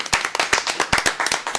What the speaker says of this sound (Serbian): Aplauz za Markorija